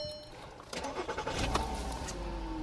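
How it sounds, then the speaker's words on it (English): A VW Jetta's engine cranks and catches at about the 0.7-second mark after a short quiet stretch, then settles into a steady, close idle, with a faint low rumble holding to the end. "Let's start the engine."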